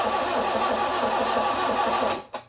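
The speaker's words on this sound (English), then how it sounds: "I went ahead and went for that first crank." A Toyota 86 engine cranks on its first start attempt with a steady, rhythmic starter churn close by for about two seconds, then stops with a brief clunk.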